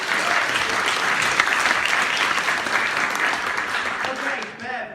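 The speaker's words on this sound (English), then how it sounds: "So a round of applause for Sonia" An audience applauds a performer after a drama adjudication, loud and dense clapping from many hands that sustains evenly and tapers slightly at the end.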